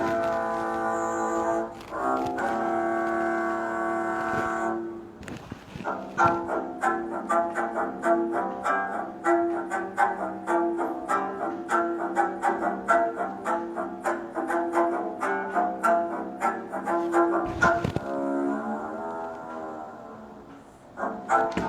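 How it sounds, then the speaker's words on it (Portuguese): A double bass plays a steady run of low, resonant plucked or bowed notes for about twenty seconds, fairly close and clear, with a short pause partway through and no talking. "Agora vamos ouvir o som do contrabaixo"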